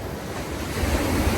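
Large ocean waves surge against the rocky shore at Anjuna Beach, Goa, a loud continuous roar of surf mixed with wind rumble, without voices.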